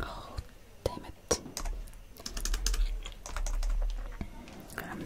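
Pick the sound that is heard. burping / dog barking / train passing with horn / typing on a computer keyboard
typing on a computer keyboard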